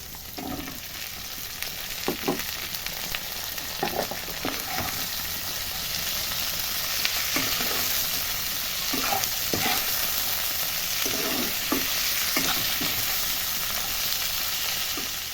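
A pan of chopped tomato and lightly fried onion sizzles steadily throughout while a utensil scrapes and taps in an irregular stirring rhythm, close and fairly loud.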